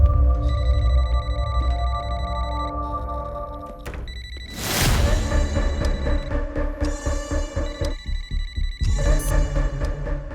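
Telephone ringing in a tense scene from a Telugu film, with a pulsing electronic ring repeating over a dramatic music score and a sudden swell of sound midway.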